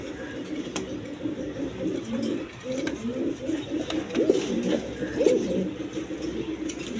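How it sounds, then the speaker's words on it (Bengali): Satin pigeons, a male and a female, keep up continuous low bubbling coos close by, with a few faint higher bird chirps around them. "একদম সুস্থ সবল কবুতর এটা নর আর এটা মাদি"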